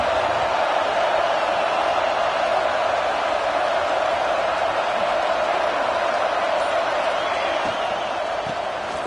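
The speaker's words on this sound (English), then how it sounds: "this home crowd is fired up and ready to make a difference today" Home crowd at an LSU vs Florida college football game, a loud sustained stadium roar filling the whole stretch, with commentary voices mixed underneath.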